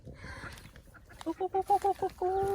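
Laying hens cluck in a backyard run at feeding time, a rhythmic series of short clucks building to a longer drawn-out call, close by over soft rustling and faint background sounds.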